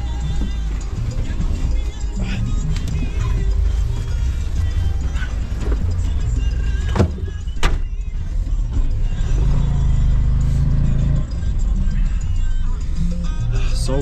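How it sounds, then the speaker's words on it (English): A tuk-tuk engine rumbles steadily from inside the cab on a ride near Lake Titicaca, a low constant drone with bumps and rattles, while people talk over it. "So we are in the tuk-tuk now."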